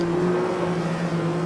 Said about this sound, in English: The car is topping out in 5th gear already.